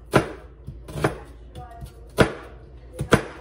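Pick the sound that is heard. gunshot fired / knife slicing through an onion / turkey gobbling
knife slicing through an onion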